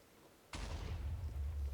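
A block of TNT detonates in Minecraft with an abrupt, sharp boom that rolls into a long, low, rumbling tail, loud and alone against faint background hiss.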